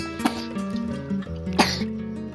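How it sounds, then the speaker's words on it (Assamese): A child coughs twice, short harsh bursts about a second apart, close by, over a steady low background hum. "কাহি দেখাই আছা ভিউৱাৰখিনিক"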